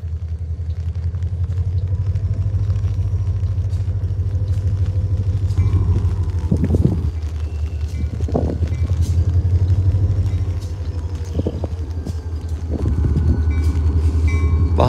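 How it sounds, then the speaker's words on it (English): A heavy northbound Paducah and Louisville Railway ballast train rumbles past nearby in Kentucky, its low engine drone steady while wheels clank and squeal over the rails in irregular bursts. "We've got a northbound ballast train making its way towards Central City here at Pond River Collier's Road."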